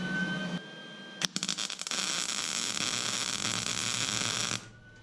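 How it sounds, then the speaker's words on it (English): A MIG welder tack welds a steel cart frame, giving a harsh crackling arc that starts abruptly with a few short sputtering bursts, then holds a steady loud buzz for a few seconds before cutting off. "So I'm gonna turn on the welder, tack this side up, and we're gonna go around all 4 corners here and do that."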